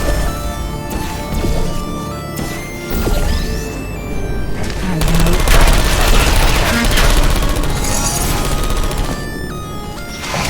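Rapid gunfire from turrets in Portal 2, a dense, loud run of automatic shots mixed with crashes and impacts over game music and effects, continuing through most of the stretch.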